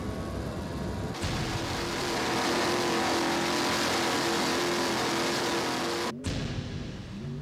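P1 racing powerboats running at full throttle during a 2009 World Championship race off San Benedetto del Tronto, Italy, a loud, continuous engine roar with slight surges, broken by a sharp cut shortly before the end.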